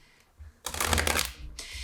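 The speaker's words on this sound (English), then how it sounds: "let me get some shuffling going." A short burst of close riffle-shuffling from a Chakra Wisdom Tarot card deck follows a soft rustle, then a second shuffle begins.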